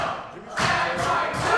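Wrestler crashing onto the ring canvas after a superplex, a heavy thud followed by a loud surging crowd roar that swells in waves, with an announcer's voice buried underneath.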